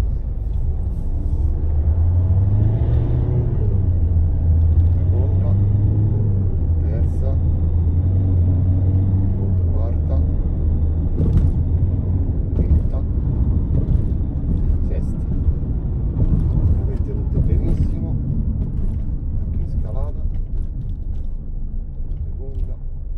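A Citroen C4 Grand Picasso engine pulls on a test drive, a steady low rumble that builds slightly and stays under continuous talking for the whole stretch.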